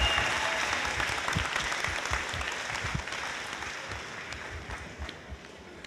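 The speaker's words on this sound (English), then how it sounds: "let's give a round of applause to our honorary diploma awardees today" An audience at a college graduation ceremony applauds honorary diploma awardees, dense sustained clapping from a large crowd that slowly fades toward the end.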